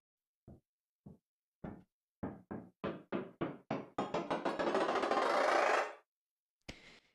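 Sharp percussive knocks from a beat processed with a warp beats-mode stutter, sparse at first, quickening into a rapid stuttering burst that smears into a continuous roll, then stops, followed by one final hit.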